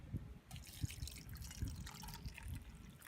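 Water is poured into a metal canteen cup over an Esbit stove outdoors, a faint series of splashing drips and trickles in short irregular bursts.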